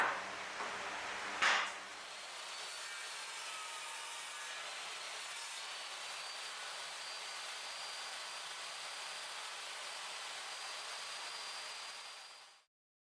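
A power saw cutting small wooden pieces held in a clamp for a cutting board, a brief sharp bite into the wood followed by a long steady whining cut that ends abruptly.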